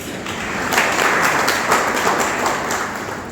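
Dense crowd applause fills a speech gathering at a Vishva Hindu Parishad event, a steady wash of many hands clapping that swells and holds for a few seconds with no talk over it.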